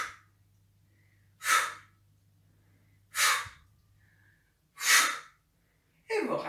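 Four strong, breathy exhalations and inhalations spaced about every one and a half seconds during an adapted gym class exercise, close and clear, with quiet pauses between and no talking.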